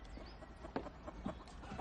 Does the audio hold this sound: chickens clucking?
yes